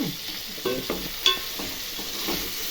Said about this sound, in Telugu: మంచిగా ముక్కలు బాగా పడుతుంది, వేగుతుంది నూనెలో